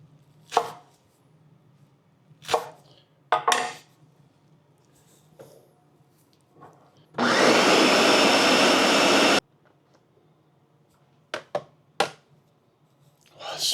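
An onion chopped on a board with a knife, heard as several loud, close, isolated thuds spaced across the clip, plus a steady roaring burst in the middle that sounds like a blender or food processor running.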